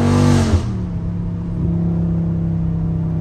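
Dodge Charger Scat Pack engine at high RPM, a loud close roar that drops off after half a second, then settles into a steady lower droning hum.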